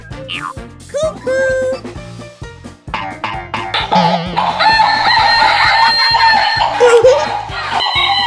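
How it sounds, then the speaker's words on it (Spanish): A rooster crows and clucks amid noisy, busy video game sounds, with voices shouting excitedly and a bright electronic melody swelling in the second half. "¡Gallina! ¡Gallina! ¡Gallina!"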